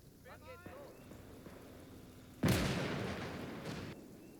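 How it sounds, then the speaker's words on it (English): In Call to Arms: Gates of Hell, a mortar round lands with one loud, broad boom that decays over about a second, following brief voice chatter and quieter background battle noise. "Call in our mortars"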